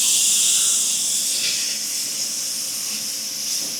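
Steak searing in a cast iron pan gives a loud, steady sizzling hiss close up, with no one talking.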